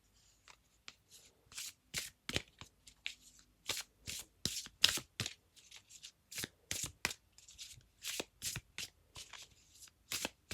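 Tarot cards are shuffled and handled close up in a quiet room, a long run of crisp, irregular riffling and slapping bursts with brief pauses between them.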